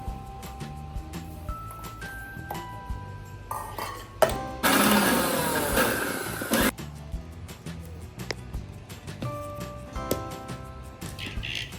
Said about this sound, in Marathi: मिरची, लसण, कोथिंबीर आणि जिरं हे आपण मिक्सरमध्ये बारीक करून घेऊ